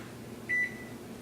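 Single oven timer beep while setting the timer in a home kitchen, one clear sustained tone over low room hum, no talk.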